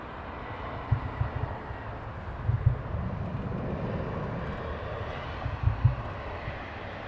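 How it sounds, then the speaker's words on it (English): An airliner arriving at London Heathrow Airport in a crosswind, a steady distant engine roar with a few low rumbling swells, heard alone without talk. "there's a bit of a crosswind here. As you can probably see on the aircraft inbound"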